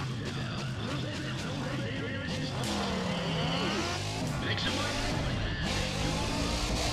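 Nissan Skyline race car in NFS Pro Street roaring at full throttle, with revving engine tones sweeping up and down through gear changes and tire noise, loud and continuous throughout.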